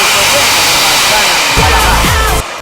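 A circular saw whines steadily at close range for about two and a half seconds, a loud continuous high-pitched drone with a brief lower thump and pitch dip near the end before it cuts off.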